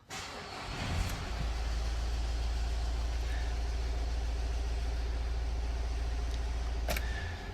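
A cold Renault Trafic diesel van engine cranks briefly, catches and settles into a steady, loud low idle that rumbles on evenly close by.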